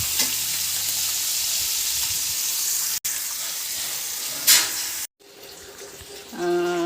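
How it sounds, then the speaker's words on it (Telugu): Onion, green chilli and capsicum frying in hot oil for noodles, giving a steady loud sizzle with a few stirring scrapes, a brief cut near the middle, and a quieter stretch with a tonal hum at the end. "ఆయిల్లో ఉల్లిపాయ పచ్చిమిర్చి వేస్తాను, క్యాప్సికమ్ కూడా వేస్తాను"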